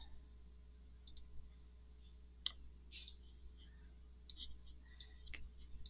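Several faint, sharp mouse clicks scattered at irregular intervals while working in a PNG-to-SVG conversion program, over a steady low hum with no talking.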